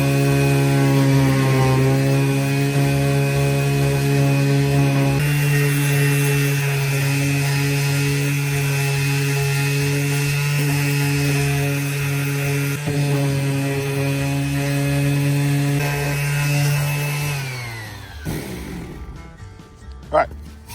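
An electric power sander hums steadily on birdhouse wood, loud and close with a constant droning whine that holds for most of the stretch before winding down and stopping.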